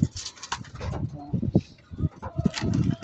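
Racing pigeons in a loft coo and flutter as they are shooed out, soft repeated calls and bursts of wing noise close by, with someone talking throughout.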